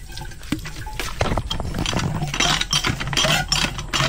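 Water poured into a Jetmatic hand pump to prime it makes a steady, close splashing rush that runs throughout, with a low rumbling undertone.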